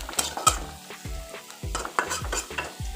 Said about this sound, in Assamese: একেবাৰে ভাজিখনত মই হালধি দিছোঁ, দি এনেকৈ অকণমান লৰাই দিছোঁ।